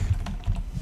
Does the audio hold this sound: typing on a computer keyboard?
yes